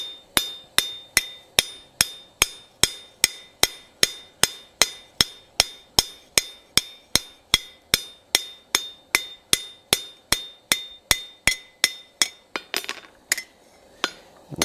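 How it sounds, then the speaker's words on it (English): A hammer strikes hot steel on an anvil while forging a bevel on a spatula, giving a steady run of sharp, ringing metallic blows at a regular pace. The strikes quicken and grow lighter near the end, close and loud, with no talking. "just easier to go ahead and forge this little bevel in to begin with."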